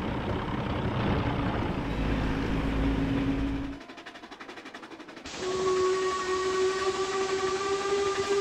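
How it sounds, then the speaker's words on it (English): A steam engine whistle sounds loud and sustained, with steady tonal blasts over hissing steam and rumbling, a brief quieter gap midway. ""Thank you, BoCo," whistled Henry"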